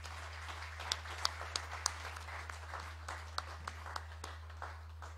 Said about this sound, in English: Can I have a hand of applause, please?